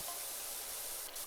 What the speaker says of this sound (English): DG, what are you doing hosing down an airship in the middle of my recreation grounds?